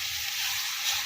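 Onions and tomatoes frying in oil as a base for okra, being stirred: a steady, close hiss of sizzling over the whole moment, even and continuous, with no talking.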